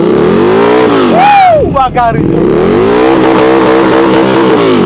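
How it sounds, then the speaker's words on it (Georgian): A Harley-Davidson V-Rod motorcycle engine revs hard, pitch sweeping up and dropping, then settles into a loud, throaty idle; a voice briefly speaks over it. "ჩვენი მოტოციკლის ხმა"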